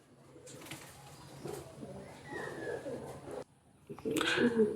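Madrasi and Andhra pigeons coo softly in a loft, with a few low throaty calls and some faint rustling. Background voices murmur underneath.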